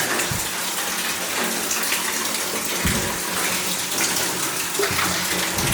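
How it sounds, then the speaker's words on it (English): Water from a spring rushes and splashes continuously at an abandoned mine, a loud steady gush pouring out close by from a pipe driven into the rock, with no voices. "I hear a lot of water up ahead"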